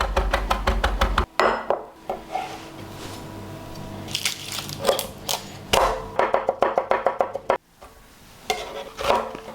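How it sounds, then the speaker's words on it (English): Knife finely slicing flat leaf parsley, garlic and red chilies on a board, rapid rhythmic chopping strikes in bursts, close and crisp with short pauses between runs. "I'm going to finely slice this"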